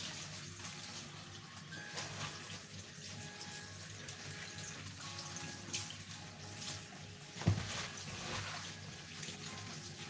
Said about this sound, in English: I'm washing it in cold water.